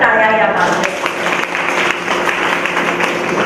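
An audience at a kirtan gathering of a senior citizens' association claps loudly and continuously, a dense, even wash of applause that lasts the whole clip.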